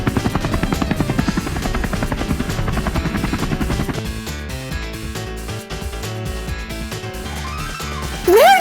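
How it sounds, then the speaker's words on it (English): A helicopter's rotor chops in a fast, loud, steady pulse, then changes to a rougher, uneven whir with a rising electronic sweep at the end, without any talking. "Where did you get a helicopter from?"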